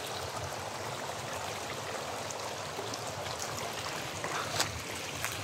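Steady, gentle rush of flowing water, fairly quiet and continuous, with a few faint splashes near the end and no talking.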